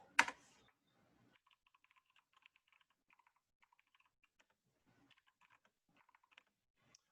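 Soft, quick keystrokes patter on a computer keyboard in uneven bursts, quiet and close, after one sharp louder knock at the start.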